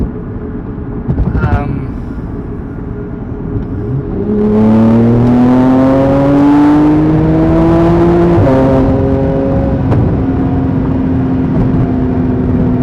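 A Porsche 911 Turbo S accelerates hard on a test drive, its engine note rising through the gears with a loud, close, climbing roar, a brief quieter stretch at the start before the pull.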